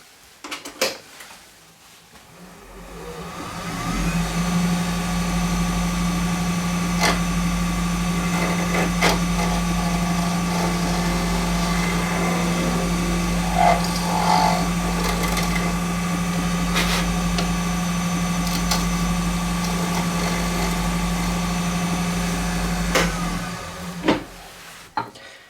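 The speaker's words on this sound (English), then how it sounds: "I can get away with using the small carbide tool and just get in there and cut where I need to" A small carbide tool cuts a custom watch center band turning on a mandrel, giving a steady, continuous lathe-cutting drone with a constant low hum that runs for most of the span before stopping.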